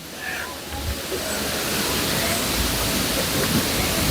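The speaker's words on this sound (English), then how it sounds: "Yeah, you can definitely hear the water." A waterfall roars in a continuous, loud broadband rush of falling water, close by and steady, with faint voices barely audible beneath it.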